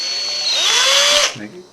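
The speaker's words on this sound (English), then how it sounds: "Re-drill this out." A power drill whines loudly at close range for about a second while drilling out a small hole in an HO-scale model dwarf signal, its pitch rising, then winds down and stops.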